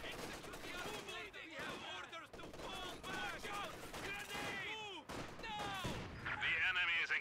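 Machine gun fire in Company of Heroes 2 rattles in sustained bursts amid layered battlefield gunfire and explosions, dense and loud throughout with a voice briefly under the din.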